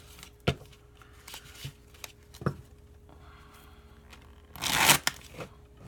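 A deck of tarot cards is shuffled by hand in a few separate bursts: quick soft riffles and taps, then a louder, longer flutter of cards near the end.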